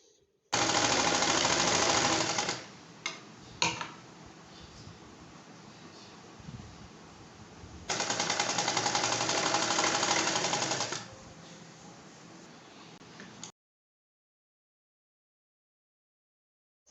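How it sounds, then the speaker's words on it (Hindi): An electric sewing machine stitches the collar of a ladies' kameez, running in two loud steady whirring bursts of a few seconds each, separated by quieter handling noise, then silence. "इसके बाद चलते हैं मशीन पे और अब इसके करते हैं हम स्टिचिंग।"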